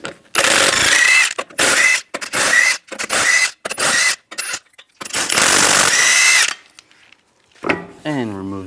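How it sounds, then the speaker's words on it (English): Power tool spinning a 22mm socket to remove the lug nuts on a 2007-2014 Cadillac Escalade wheel: about eight short, loud bursts of whirring with brief gaps, followed by a softer ratcheting clatter. "Using a 22mm socket, we'll take the lug nuts off."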